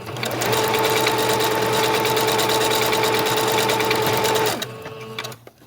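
A sewing machine runs a decorative stitch along a fabric ruffle, humming in a fast, even mechanical rhythm at close range for about four and a half seconds before winding down and stopping.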